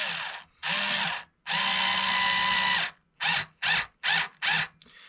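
A power drill drives screws while Waverly guitar tuners are installed in place of Schaller M-6 units, giving a long whirring burst, a longer steady run, then four short quick spurts, loud and close, with no talking.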